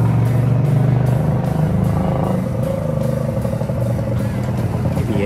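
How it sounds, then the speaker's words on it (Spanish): An orange Honda CGL motorcycle rides along a cold rural road, its engine a steady close rumble with rattly clatter, holding a continuous loud drone throughout. "Carlitos en su Honda CGL naranja"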